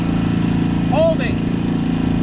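A dinghy outboard engine runs at half throttle, a loud, steady droning hum close by, with a brief higher whine or voice-like sound rising over it midway.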